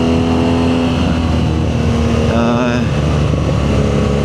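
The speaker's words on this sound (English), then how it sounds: "Leading the bike, accelerating, braking the bike, downshifting." A BMW R nineT Scrambler motorcycle revs up and drops through the gears, its engine pitch climbing and wavering near and loud, heard as one continuous run with wind noise mixed in.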